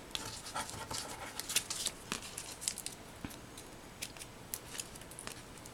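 Scissors snipping paper to trim a spring craft tag, a quick irregular series of close, crisp cuts and rustles over a quiet room.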